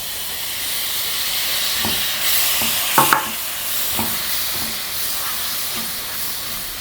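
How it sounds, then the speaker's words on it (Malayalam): Finely chopped sour tomato is added to a hot pan for a Kerala-style beef pepper roast and sizzles with a steady hiss, broken by a few sharp clatters of stirring near the middle. "ഒരു വലിയ തക്കാളി, പുളിയുള്ള തക്കാളിയാണ്, നൈസിൽ അരിഞ്ഞിട്ടുണ്ട്, ഇട്ട് കൊടുക്കുക."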